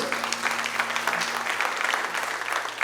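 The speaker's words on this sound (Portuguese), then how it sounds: "Podemos aplaudir Jesus novamente?" A congregation applauds during a church service, steady close clapping with no break for the full length of the clip, over a faint sustained tone.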